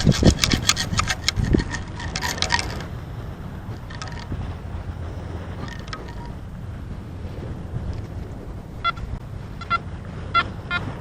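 A metal-detecting scoop digs into beach sand with gritty scraping and sifting strokes, loudest at the start, then a rough rubbing texture and a few sharp clinks under wind noise.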